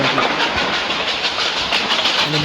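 A train in the Roblox game Choo-choo Charles rumbles steadily and loudly throughout, a dense continuous clatter of rail noise with no pauses.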